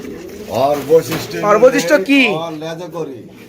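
Domestic pigeons kept for sale coo in low, throaty rolling calls close by, mixed with someone talking over them.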